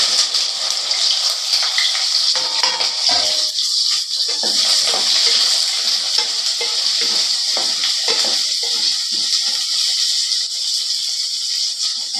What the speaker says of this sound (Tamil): இப்போ எண்ணெய் ஊற்றி எண்ணெய் காஞ்சிருச்சு. வெண்டைக்காய் போட்டு நல்லா வதக்கி எடுத்துடலாம்.